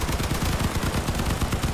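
Rapid, continuous machine gun fire rattles without pause in a Crossout vehicle combat battle, loud and close, with no talk.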